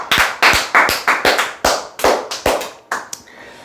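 A short round of sharp, close hand claps, about a dozen slightly uneven claps in quick succession before they stop.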